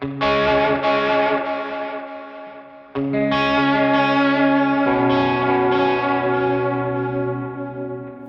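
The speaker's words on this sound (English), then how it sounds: "it's like a saturation of the delay repeats" Electric guitar chords ring out through a delay with gritty, saturated repeats that smear and sustain, with a second strummed chord midway.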